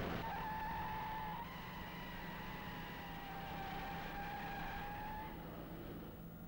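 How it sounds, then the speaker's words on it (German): A 1970s Daimler-Benz car braking hard without ABS from about 130 km/h, wheels locked: a long, faint, steady tire squeal lasting several seconds over a low rumble, with the car heard from a distance. "Ohne ABS blockieren die Räder sofort."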